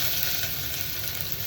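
Chopped onion frying in a pan with dried jimbu for a Nepali moringa soup, a steady close hiss and sizzle running evenly throughout with no talk.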